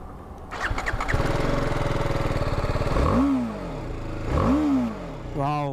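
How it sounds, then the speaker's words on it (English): A BMW G310R single-cylinder motorcycle cranks and fires up, settling into a close, steady idle before two quick throttle blips rise and fall, then a short third rev at the end. "So let me start the engine."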